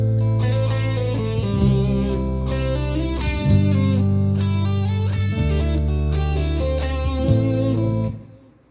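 Electric guitar plays an intro lead over a backing track, a steady rhythmic riff repeating in even phrases and ending cleanly, loud and close with no talking.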